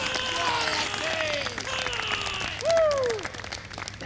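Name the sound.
golf crowd applauding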